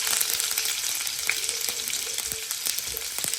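Mustard seeds, urad dal and ginger frying in hot oil, a steady bright sizzle with small pops and crackles close by, no voices.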